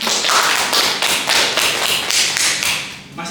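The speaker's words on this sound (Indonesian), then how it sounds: "Oke, tepuk tangan." A classroom group claps in a short burst, a rapid train of sharp, close hand claps that fades out near the end.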